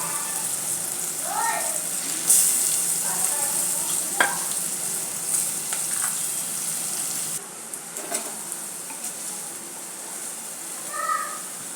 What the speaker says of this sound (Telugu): ఎర్రగడ్డలు వేస్తున్నాను.